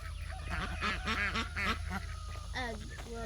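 Ducks on a farm quack in loud, rapid bursts close by, several birds overlapping in a busy honking chorus that runs throughout, with a person talking faintly underneath.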